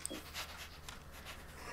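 Dog panting in Fallout 4, soft rhythmic quick breaths repeating steadily, faint and close, with no talk.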